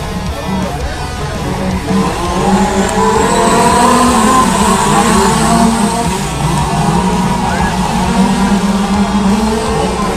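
A field of stock modified race cars thunders around a dirt track, a dense, loud engine roar that swells as they accelerate, with an announcer's voice partly heard beneath the din.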